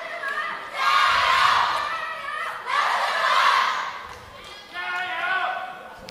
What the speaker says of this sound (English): Crowd getting a bit raucous here right now